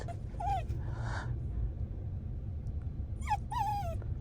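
A dog whimpers and yips in short high whines on the way to grooming, a few bursts separated by pauses, over a low steady background rumble.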